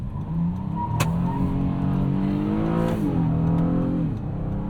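A 2025 Honda Odyssey minivan with its J35 V6 accelerates hard at half throttle, the engine note climbing steadily in pitch through the rev range and dipping briefly at a shift before rising again, loud and continuous with no talking.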